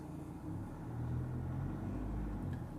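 A 4x4 with its rear differential locked crawls over an obstacle at an off-road show course, producing a steady, low engine rumble that swells slightly as it climbs.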